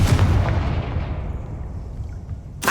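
A blasting spell bursts in Hogwarts Legacy: one loud, booming explosion that rumbles and slowly fades over a couple of seconds, with a sharp new crack at the very end.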